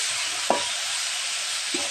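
Egg chira pulao, flattened rice with egg and salt, fries in a pan with a steady close sizzle, while a spoon stirs it with a couple of brief scraping knocks.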